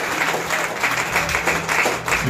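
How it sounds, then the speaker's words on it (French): A church congregation clapping together in steady, dense, rhythmic applause that fills the hall at a constant loud level. "Acclamons encore pour Dieu."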